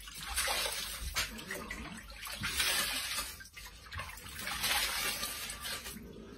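Water sloshes and splashes as a face is dipped into a basin for shaving, with irregular bursts of close, fairly soft splashing and dripping.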